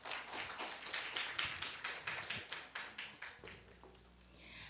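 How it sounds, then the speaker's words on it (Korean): Applause from a symposium audience welcoming a professor to the podium, a dense run of claps with rhythmic peaks that tapers off into quiet room tone near the end, with no talking. "큰 박수로 환영해 주시기 바랍니다"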